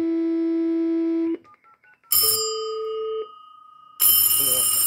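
A 1960s PTT U43 telephone switchboard with a mobile handset plays a steady dial tone, a run of quick dialing tones, then further signal tones, all loud and close with brief gaps between.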